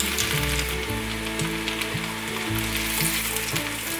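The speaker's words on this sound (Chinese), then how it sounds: "另一面稍微变金黄色就可以翻面了，再让它慢慢煎" Nori-wrapped enoki mushrooms slowly pan-fry in oil over low heat, giving a continuous close sizzle with faint crackles and a low steady hum beneath it.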